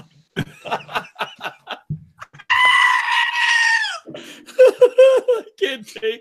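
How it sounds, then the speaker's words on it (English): Goat bleating sound effect, one loud sustained bleat in the middle, with bursts of laughter and snickering before and after it. "We got goat noises."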